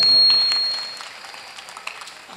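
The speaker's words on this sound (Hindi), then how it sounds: "अरे एक बार जोरदार ताली बजा दो भाई।" An audience claps at a Hindi comedy poetry gathering (hasya kavi sammelan). A short burst of fairly loud applause quickly fades to scattered claps.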